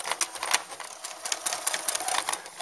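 A sewing machine stitching a seam on a soft toy lamb, a rapid rhythmic chatter of the needle mechanism in quick bursts, close and moderately quiet, with no talk over it.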